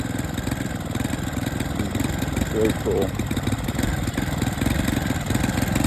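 A small engine mounted on an AWD hybrid bicycle runs steadily at a loud, even idle-like drone throughout, with a brief voice speaking over it midway.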